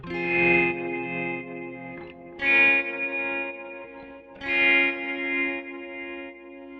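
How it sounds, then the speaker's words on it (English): A lofi hip hop synth track in Ableton played through an amplifier simulation effect: sustained distorted, chorused chords swelling in three repeated phrases, loud and alone. "up here is the amplifier simulation section. I can adjust this to make changes to the overall sound"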